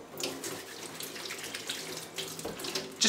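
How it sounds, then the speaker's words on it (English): Tap water running steadily into a sink while fingers are wetted under the stream before pitting dates, a continuous close splashing flow with a brief louder burst at the end. "Just run them under some tap water and flick them off."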